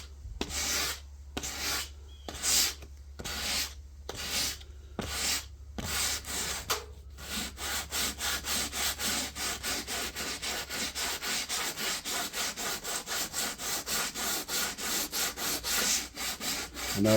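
A hand file rasps along a wooden edge banding strip, feathering it down, in steady back-and-forth strokes: slower separated passes at first, then a fast even rhythm of close, loud scraping with no talk.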